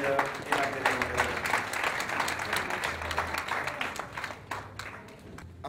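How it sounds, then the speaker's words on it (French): Audience applause fills a hall at a Christmas tree celebration, a dense wash of clapping held steady throughout, with a low murmur of voices underneath and the clapping thinning slightly toward the end. "Et je vous demande d'applaudir la direction nationale, les travailleurs et la direction."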